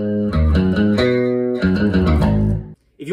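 Aggressive bass guitar, punchy bright notes in a quick rhythmic line, loud and close, ending abruptly before a brief voice.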